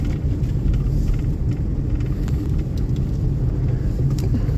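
Car tyres rumble over thick packed snow after a snowstorm, a steady, loud, low droning roll with faint rattles on top and no voices.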